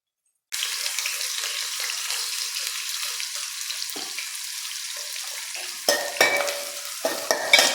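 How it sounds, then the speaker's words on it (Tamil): Curry leaves crackle and sizzle steadily in hot oil in a pan, a loud continuous frying hiss that starts abruptly, with a few sharper bursts and spatters near the end. "இந்த மாதிரி பொரிச்சிடணும்."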